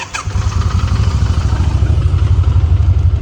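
A Kawasaki motorcycle engine of about 1600 cc runs close and loud with a steady, throbbing low rumble and a quick rev at the start, heard alone.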